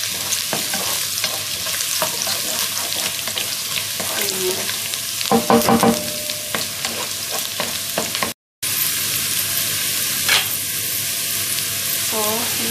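Stir-frying of ingredients for homemade sambar in a home kitchen, a steady sizzle with intermittent scraping and stirring clatter, loud and close, with a brief dropout near the end.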